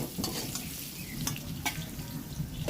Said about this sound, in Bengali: আর সামান্য হলুদ এবার সুন্দর করে নেড়ে চেড়ে দেব দু থেকে তিন মিনিট আমি এটাকে ভেজে নেব